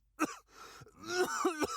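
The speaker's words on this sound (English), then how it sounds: "He tried to breathe, but the air burned his lungs and he violently coughed." A man coughs and clears his throat harshly, a few raw, rasping bursts up close followed by strained, groaning breaths.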